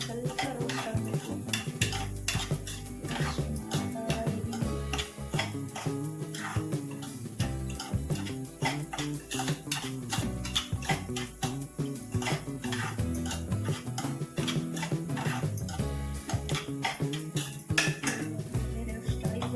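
Semolina (rava) being stirred and roasted in a metal pan for upma, with a steady run of scraping, clinking spoon-on-pan strokes and a faint dry sizzle over about twenty seconds, with no talk.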